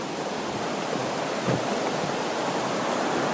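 Gocta waterfall in Peru sends a loud, unbroken roar of rushing water past a hanging footbridge, a dense steady wash with one faint low thump midway and no talking.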